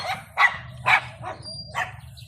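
Pet dogs bark in a few sharp, close bursts spread over a couple of seconds, with a faint whimper between, against a low steady background hum.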